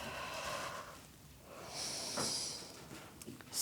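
Soft breaths are pushed out during a Pilates core exercise for the deep abdominals, a quiet close exhale swelling and fading, then a brighter hissing breath around the middle.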